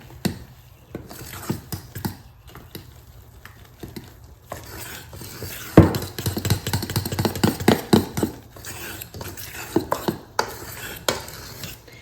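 A spoon stirs vegan chocolate chip pancake batter in a bowl, first with scattered light taps, then a busier stretch of scraping and clinking against the bowl sides, close up and with no talk.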